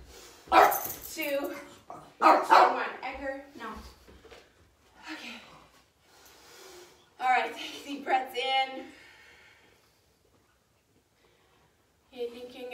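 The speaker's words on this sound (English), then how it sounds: "Don't mind my dogs." Dogs bark and yip in bursts during an upbeat home yoga class, mixed with a person talking and then a long quiet stretch before another short burst.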